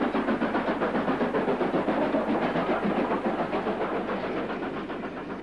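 A Stanier Class 5 steam locomotive climbs a steep gradient just south of a station platform, its loud, rhythmic exhaust beats pounding close by with a continuous roar and no voices.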